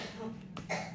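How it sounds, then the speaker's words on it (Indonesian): A short, close cough bursts out once, harsh and brief, against a faint murmuring background. "Batuk?"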